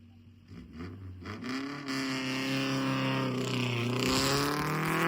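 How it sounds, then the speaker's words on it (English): Callaway Warnick race car number 203 roars on the Bonneville Salt Flats course during Speed Week land speed racing, a loud engine note that builds steadily and climbs in pitch as it accelerates through gears, alone without talk. "Roaring on the course now, car number 203. It's a Callaway Warnick entry with John behind the controls."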